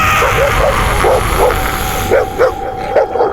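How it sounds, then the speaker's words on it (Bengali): A dog barks in short yipping bursts, about a dozen in an uneven rhythm, moderately close, over a constant background hum. "ভিতরে আমার কুকুরটা ডাকছে,"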